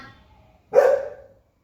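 A single sharp dog bark, close and loud, standing alone in an otherwise quiet space.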